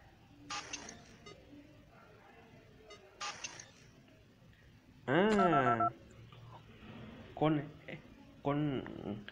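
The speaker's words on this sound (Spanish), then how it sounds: "con el ruido de los teléfonos te invoco y te traigo" Telephone dialing tones in the video game Five Nights at Candy's, several short beeping bursts spaced apart, followed by louder warbling electronic tones, heard alone without talk.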